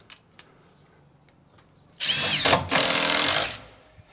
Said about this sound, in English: Then throw a bunch of screws in.